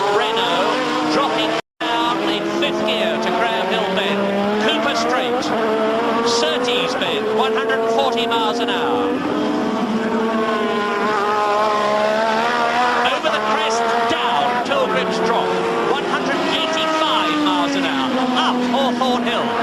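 Formula One race cars at 1986 British Grand Prix qualifying at Brands Hatch, a Tyrrell Renault among them, with a loud sustained engine whine rising and falling through gears under continuous commentary.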